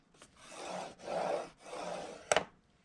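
Three slow, even strokes of a scoring tool drawn along measured lines on paper for a Valentine's tower box, each a soft close scraping rasp, followed by a brief sharper tap.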